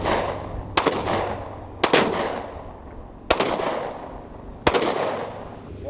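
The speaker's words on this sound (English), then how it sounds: "And this is a SIG 1911. 230 grain full metal jackets." Four loud, sharp pistol shots from a SIG 1911 firing .45 ACP 230-grain full metal jacket rounds at a truck outdoors, spaced about a second or more apart, each with a brief echoing tail.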